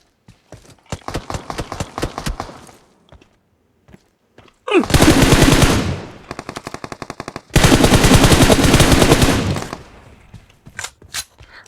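Automatic machine gun fire in the mobile battle royale game PUBG Mobile, with quick single shots, then two long, loud sustained bursts broken by a short rattling burst, and scattered sharp shots toward the end.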